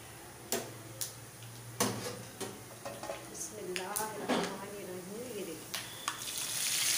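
Sizzling tempering (baghar) for vegetable pakora kadhi, hot oil crackling with scattered sharp pops and ticks under a steady fry hiss that grows louder toward the end, with a voice speaking briefly in the middle.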